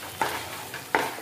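Cashew and poppy seed paste dropped into a pan for chicken rezala: two soft, brief thuds and scrapes over a faint low sizzle, close and quiet, without speech.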